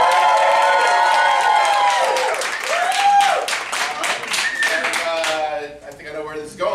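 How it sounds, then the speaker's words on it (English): Audience at the PBIF 2017 film festival clapping and cheering in a hall, loud and lively, with sharp claps and high whoops rising and falling over several seconds before tapering off. "Please clap and cheer, make lots of noise if you want to see Cult Classic"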